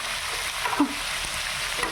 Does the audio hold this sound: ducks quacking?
no